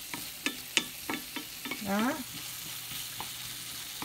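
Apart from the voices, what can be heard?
stir-frying ingredients for vegetarian porridge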